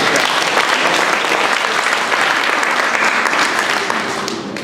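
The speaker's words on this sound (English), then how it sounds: "Give them a round of applause" Dense, sustained applause from a Toastmasters public-speaking workshop audience fills the room at full strength, tapering off slightly at the end.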